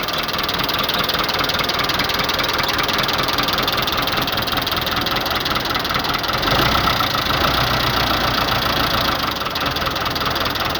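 A 1979 Fiat 640 tractor, 65 hp, idling after being started, a loud, steady, knocking diesel rumble up close that runs continuously throughout.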